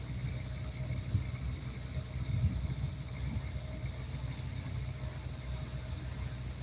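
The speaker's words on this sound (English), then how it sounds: "That's the ferry you guys probably heard." Low, steady engine drone of a river ferry on the Mississippi, a constant distant rumble with faint background noise and no talk.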